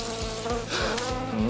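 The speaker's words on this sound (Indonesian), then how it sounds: "Oh, ada lalat." Housefly buzzing near the listener inside a cartoonish prison scene, a steady droning hum mixed with music-like tonal layers and rhythmic low thumps, no talking over it.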